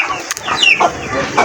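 Rooster clucking in short, raspy bursts, fairly close and loud, with some background noise and no talk.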